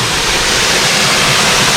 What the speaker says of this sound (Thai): ผมอยู่บริเวณ ชั้นสองนะครับ ของน้ำตกลงลู หรือว่าน้ำตกแสงจันทร์นะครับ